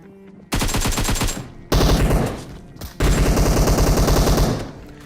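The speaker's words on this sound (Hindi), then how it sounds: "एम के जैसा साउंड लेके इसने मेरे पे M762 चला दी" Rapid automatic fire from an M762 rifle in the PUBG video game, three loud sustained bursts of closely spaced shots separated by short pauses.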